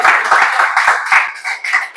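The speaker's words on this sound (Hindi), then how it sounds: "सर एक बार तालियां और बजा दीजिए" Lively clapping from a kavi sammelan audience at a Hindi poetry recital, brisk and close, with overlapping claps that stay steady for a couple of seconds.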